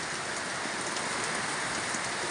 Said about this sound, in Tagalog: Panlakas ng ulan guys oh.